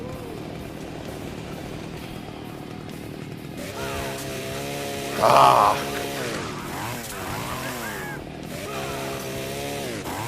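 A chainsaw revs and grinds in the Splatterhouse video game as it cuts enemies in half, a steady buzzing drone under game noise with a sharp burst midway, and someone speaks briefly.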